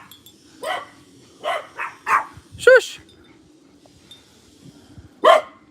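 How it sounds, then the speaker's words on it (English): Several dogs bark indoors during a home yoga and stretching session, sharp separate barks and yips spaced a second or so apart, with a person hushing them between barks. "Dogs are going crazy."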